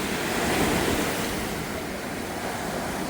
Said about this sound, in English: There's nothing like the sound of the ocean.